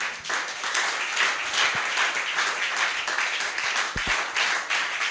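A church congregation applauds together, a dense, steady wash of many hands clapping that fills the whole stretch without pause, loud and close.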